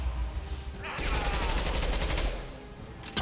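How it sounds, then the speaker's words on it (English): Dense automatic gunfire from a Mass Effect 2 firefight, loud and continuous for most of the stretch, rapid bursts with a brief lull before a final volley. "Fuck, I'm out of ammo. Taking heavy fire!"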